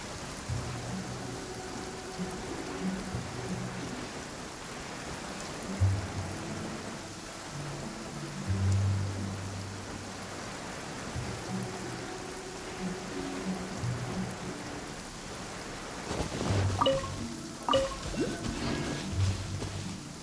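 Steady rain falls in the video game Genshin Impact, a continuous hiss with low rumbling swells and occasional game tones layered over it.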